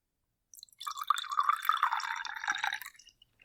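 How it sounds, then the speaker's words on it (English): Oaked black cherry mead poured from a bottle into a glass, a close, bright gurgling splash lasting about two seconds after a brief silence, then a last few drips. "So what we're trying is their oaked black cherry. Let me pour a little more."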